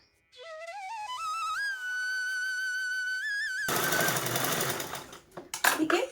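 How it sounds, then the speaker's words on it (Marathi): A sewing machine stitching around a fabric circle for a purse: a rising tonal whine first, then a dense, rapid mechanical rattle running close and loud, with no voices. "हा जो ओपन पार्ट आहे हा आपल्याला आता या स्टेजला स्टिच करून घ्यायचा आहे"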